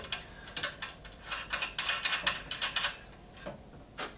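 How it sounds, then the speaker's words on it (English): Quiet metallic ratcheting clicks come in quick irregular bursts as a nut is tightened onto a bolt while a Hyundai HYT140 petrol garden tiller and cultivator is assembled, heard close up with no talking. "I'll just put a nut on the inside"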